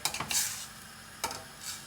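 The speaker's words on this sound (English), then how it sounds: "once in a while you have to stir it," A few scraping stirs in a pot of curried potato and vegetables, sharp strokes separated by pauses, with a soft sizzle underneath.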